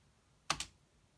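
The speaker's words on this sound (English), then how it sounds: "So it's the keyboard" Computer keyboard keys struck twice in quick succession, two close, sharp clicks against a quiet background.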